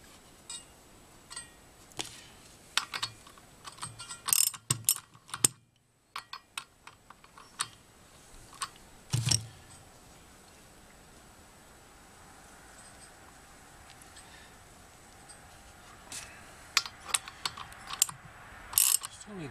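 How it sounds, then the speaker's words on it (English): A ratchet works a nut loose during an engine and transmission teardown, giving faint, close clicking runs and scattered sharp taps in a quiet workshop, with short pauses between bursts. "Still need the ratchet to remove this nut."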